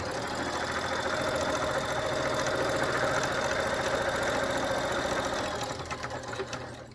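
A sewing machine stitching a fold of fabric for a simple gift bag runs in one steady, rapid mechanical whir with a rhythmic needle chatter, close and fairly loud, slowing and stopping near the end.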